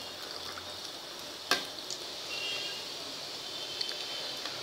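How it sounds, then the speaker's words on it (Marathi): Sweet jaggery puri frying in hot oil, a steady soft sizzle and bubbling throughout, with one sharp clatter near the start and a few light ticks later. "अशी सोनेरी रंग होईपर्यंत तिला तळून घ्यायची आहे छान"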